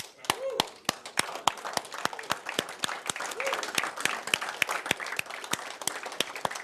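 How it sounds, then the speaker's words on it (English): Audience applause builds around sharp, rhythmic unison claps at an even beat, with crowd noise and brief vocal sounds underneath. "And give yourself a big round of applause here"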